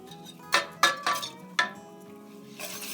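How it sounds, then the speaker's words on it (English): A whisk stirring sugar into a farmhouse pudding mixture in a pot, a few sharp scraping clinks against the pan in quick bursts, close up, followed by softer stirring. "And whisk that in too"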